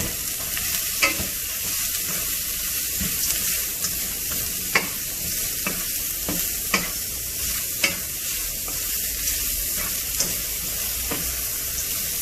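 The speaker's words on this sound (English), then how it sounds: "Now we are going to add in vegetables. Okay, we're going to add in the beans, the cauliflower, as well as the carrot." Beans, cauliflower and carrot stir-fried in a pan, giving a continuous bright sizzle broken by repeated scraping clicks from stirring, heard up close with no voices.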